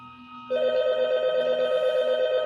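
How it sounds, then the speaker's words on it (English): A telephone rings in a house where people sit on a couch watching TV; a steady, loud electronic ring starts about half a second in and continues without a break to the end. "The telephone rang."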